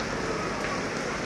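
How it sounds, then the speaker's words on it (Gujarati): Steady rain pouring in Ahmedabad, a dense continuous hiss of drops hitting surfaces, close and even throughout with no talk. "અત્યારે બહુ સરસ વરસાદ ચાલુ થઈ ગયો છે"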